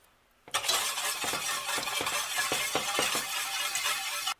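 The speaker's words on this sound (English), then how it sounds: "Start whisking away." A whisk beating macaroni and cheese sauce in a pan, fast rhythmic metallic clicks and scraping heard up close and alone after a quiet start.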